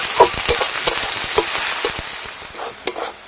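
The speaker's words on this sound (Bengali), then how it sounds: "আদা রসুন বাটা পেঁয়াজের সঙ্গে ভালো করে ভেজে নেব" Onions fry in a pan with ginger-garlic paste, a close hissing sizzle punctuated by sharp clicks and scrapes of a spatula stirring at an irregular rhythm.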